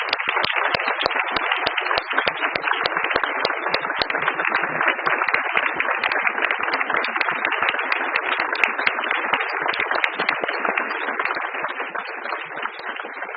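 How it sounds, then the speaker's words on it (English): Sustained audience applause for top academic students at a Martin Luther King Jr. Day community celebration, a dense wash of many clapping hands filling the room at steady loudness with no break for the full length. "Let us give all of our Dr. Martin Luther King Jr. top academic students one final applause."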